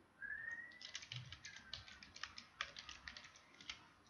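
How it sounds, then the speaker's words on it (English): Rapid, uneven clicks of typing on a computer keyboard, steady for several seconds, with a faint rising whistle-like tone at the start. "So I am typing it here"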